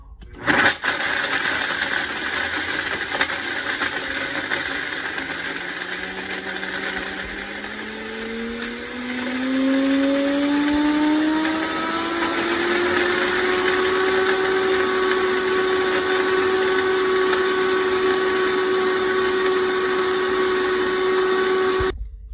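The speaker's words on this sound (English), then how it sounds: "Cover and start the blender." A blender grinds dehydrated banana into flour, loud and close: the motor starts, its whine climbs steadily in pitch as the pieces break down, then holds a high, constant drone until it cuts off.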